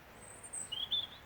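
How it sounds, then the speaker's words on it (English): A robin sings in a cold Scottish garden, a few thin, high, bright phrases that are faint and fairly distant over quiet background hiss. "I like hearing that robin sing"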